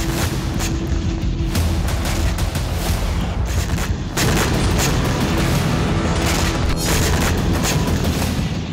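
Russian bombing hits a Ukrainian city, with heavy booming blasts and rapid bursts of gunfire-like cracks over dense low rumble, loud and repeated throughout.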